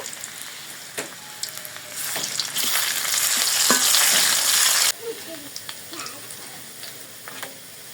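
Chopped garlic and broken dried red chilies fry in oil in a wok, with scattered stirring taps giving way to a loud, dense sizzle that cuts off abruptly, then light crackles and clinks close by.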